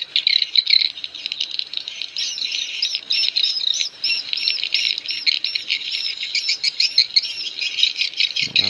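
A swiftlet lure call of the Inap BJX type plays as rapid, high-pitched chirping and twittering in dense repeating bursts, steady and fairly close.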